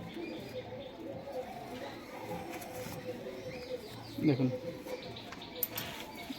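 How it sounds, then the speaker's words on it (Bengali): A Malbai pigeon gives a soft cooing burst midway, low and brief, while someone speaks nearby over faint background chatter and occasional chirps. "অরিজিনাল মালবাই পায়রা"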